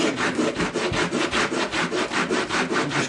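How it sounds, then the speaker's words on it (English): Sandpaper rubbed back and forth over a lip of cork roadbed on a model railroad, giving steady, evenly paced gritty strokes, about four per second, close and fairly loud, with no voices. "there's a lip there, so I gotta sand that off."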